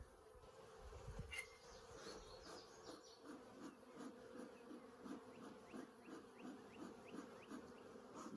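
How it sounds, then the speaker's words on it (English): Honey bees buzz steadily around backyard hives, a dense insect drone with pulsing swells, close and continuous throughout, with no voices present. "The bees are getting kind of fussy."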